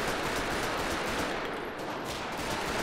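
Dense, continuous automatic gunfire in a GTA NoPixel roleplay shootout, loud and close, filling the whole stretch without pause.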